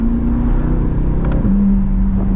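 A car's engine with a new aftermarket exhaust drones steadily at mid revs while driving with the top down, with a brief dip and shift in pitch midway, loud and close with no talking.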